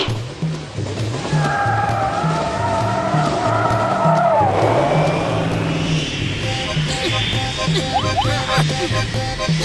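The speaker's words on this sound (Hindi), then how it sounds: "डॉक्टर झटका, अपनी फ्लाइंग कार लेकर कमलपुर वाले ट्रेन रूट पे आओ जल्दी।" Cartoon flying car racing along a train route, heard as a loud engine drone with screeching tire squeals and skidding, a rising whine partway through, and faint talk underneath.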